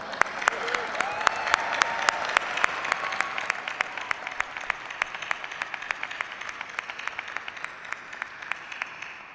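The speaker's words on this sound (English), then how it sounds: "Applause for Tacoma Rama" Applause for Tacoma Rama at a Dr. Martin Luther King, Jr. celebration program, a room of hands clapping steadily with one sharp clapper standing out, slowly thinning toward the end.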